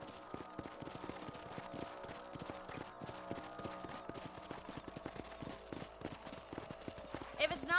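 Horses trot through a video game, hooves clip-clopping in a rapid, steady rhythm at moderate volume, with faint background game sounds throughout.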